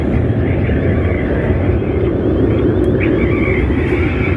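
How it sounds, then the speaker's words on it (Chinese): A Kunming airliner on final approach to land at a busy airport roars with a loud, continuous low engine rumble and wind buffeting, no voices. "即将落地进港的一架昆体客机"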